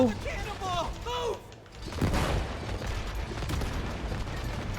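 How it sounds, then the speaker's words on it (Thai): Fireworks burst in the video game It Takes Two: a loud crackling explosion with a rushing, hissing spray that fades into a continuing noisy rumble, following whistling sounds at the start. "พลุพลุพลุพลุพลุ"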